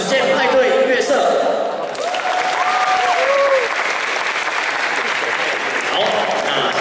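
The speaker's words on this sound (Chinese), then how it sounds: "好，那我们再为一个掌声来谢谢我们的实践派对音乐社。" Sustained applause from a crowd at a Taipei Medical University graduation dance party, dense and loud throughout, with a voice briefly heard over the clapping near the start.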